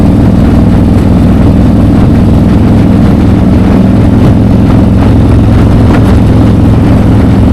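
Harley-Davidson Road Glide CVO ST motorcycle, tuned to 180 horsepower, under hard acceleration through the gears on a test ride, a very loud, steady, deep engine drone with heavy wind rumble, no talk.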